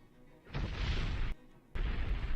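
Explosion sound effects fire on a livestream: two heavy, loud booms, each a sudden onset followed by a rumbling roar that lasts most of a second, separated by a short quiet gap, with no voices.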